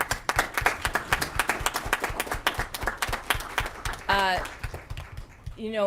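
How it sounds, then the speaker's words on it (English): Applause at a school board meeting, a scattered round of distinct claps from a modest group that is fairly close and moderately loud, with voices speaking over the final seconds. "if we could just give a round of applause to our action team leader"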